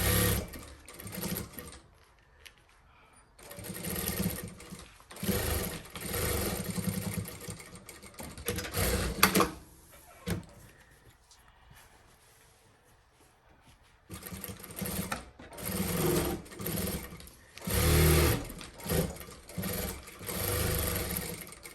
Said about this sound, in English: we are going to stitch all the way on this side and all the way on the other side